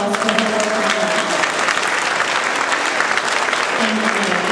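A school orchestra audience applauds the class media specialist, a steady, loud burst of clapping from a crowd filling the whole stretch.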